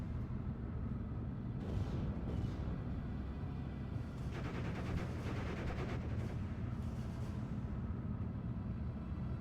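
Distant artillery and gunfire in the Steel Division wartime strategy game, a low continuous rumble of explosions with clusters of rapid shots breaking through, faint and alone without talk.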